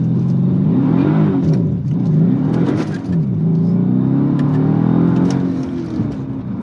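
Mercedes S 63 AMG from 2012, armored, pulling away hard with traction control switched off, its engine roaring and rising in pitch through a couple of surges, loud and close, with no talking.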